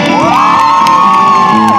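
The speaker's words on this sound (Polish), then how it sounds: "Proszę, to jest Madzia, poproszę brawo i oklaski." Audience of children shouting and whooping for a performer named Madzia at a rock'n'roll show, a loud brief burst of excited voices with one high sustained cry rising over the crowd.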